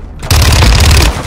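Loud, close automatic gunfire from an online shooter game bursts in after a short quiet moment and rattles on rapidly for about a second.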